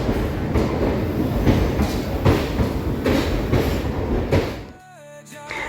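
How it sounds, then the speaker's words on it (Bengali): A train rumbles past at Kathgodam railway station, its wheels clattering in a steady rhythm close by for several seconds before the noise cuts off abruptly, leaving a quieter station hum. "তারপরে এই ট্রেনটা চলে গেল"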